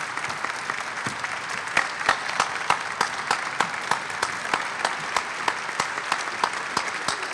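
A university audience applauding after a State of the University speech, a steady mass of overlapping claps from a sizable crowd that keeps an even, sustained level with no talking.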